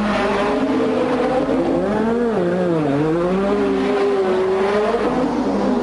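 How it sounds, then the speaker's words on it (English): A 1986 McLaren Formula 1 race car at Monaco sings a steady, loud engine note whose pitch dips and rises through gear changes and cornering, held continuously for several seconds with no talk. "Prost's McLaren hummed calmly on"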